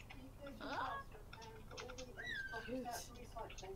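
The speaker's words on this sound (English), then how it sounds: "Oh, little cute bird noise." Small bird chirps and squeaky tweets come in short bursts over a low background hum, fairly close and moderately soft.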